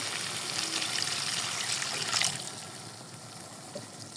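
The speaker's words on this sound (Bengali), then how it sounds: "গোশ কষানোর জন্য আমি সামান্য পানি দিয়ে দেবো" Water pours into a pan of goat meat being braised for about two seconds, a soft, steady splashing that cuts off, leaving a quiet hiss afterward.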